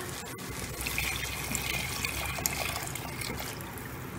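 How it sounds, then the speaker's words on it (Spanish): Water poured into a cooking pot holding chiles and potatoes for a Sonora-style cheese soup, a steady trickling, gushing stream running close and continuous for the whole stretch with no talk over it. "Bueno, le voy a agregar el agua."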